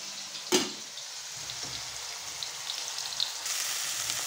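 Capsicum, onion and tomato sautéing in a kadhai, a steady hissing sizzle opening with a sharp clank of utensil on metal, a few lighter stirring knocks later, close with no talking.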